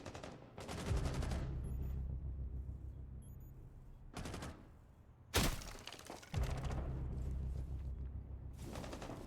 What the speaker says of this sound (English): Shoot the window.